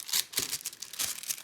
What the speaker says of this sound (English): I'm just going to cut down with my scissors